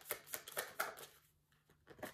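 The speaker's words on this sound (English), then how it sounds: "These cards are kind of hard to shuffle sometimes because they're still new" New tarot cards, still stiff, being shuffled in a quick run of papery riffles and soft slaps that tail off into a brief quiet pause before another short flick.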